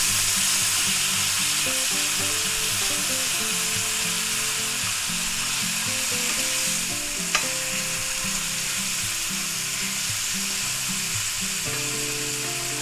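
Defrosted burger meat with plenty of onions sizzling in a pan while being flipped and chopped up, a steady loud frying hiss with repeated scraping strokes and one sharp clink.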